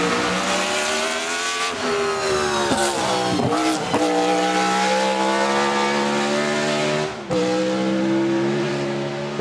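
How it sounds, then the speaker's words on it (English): Loud, close BRM Formula One car with a 1.5 litre V16 engine, a continuous high-pitched scream with rising and falling revs and sharp gear changes, heard trackside at a festival of speed. "This was BRM, the British company, and just listen to this, because this engine is unique."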